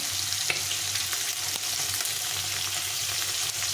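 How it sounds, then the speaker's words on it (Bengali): Shol fish sizzle steadily in hot oil in a pan, an even close hiss dotted with small crackles and pops, heard alone without voices. "একপাশে ভাজা হলে আবার উল্টে দেবো মাছটা"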